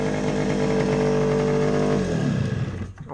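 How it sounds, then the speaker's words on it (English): A Yamaha RXS100 two-stroke motorcycle engine idles steadily and loud up close, a buzzy drone that drops in pitch and fades out as it shuts off near the end. "I'll turn it off so I'm not shouting over the engine"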